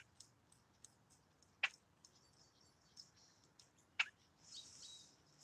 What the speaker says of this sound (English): You can still hear him in there doing that tick, tick, tick.